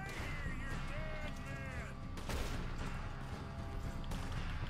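Gunshots from Red Dead Redemption 2 gameplay, several sharp reports over a dense game soundscape with music and effects, including a strong blast near the middle and another toward the end.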